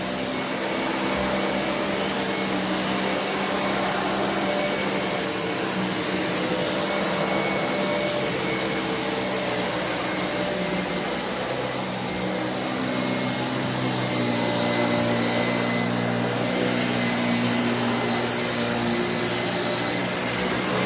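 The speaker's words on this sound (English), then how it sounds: "So it looks like we're going to vacuum around invisible furniture" A Dyson Cinetic Big Ball upright vacuum cleaner runs steadily with a constant high whine and rushing airflow, loud and close, with no talking.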